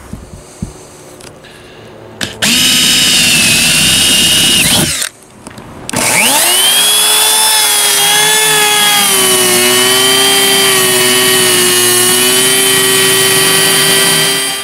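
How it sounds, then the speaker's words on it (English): A router cuts a hole through a travel trailer roof with a loud, steady high-pitched whine that pauses briefly, then restarts and settles into a sustained close-up cutting drone. "now we'll punch a hole in here, take our router, and go around that bad boy"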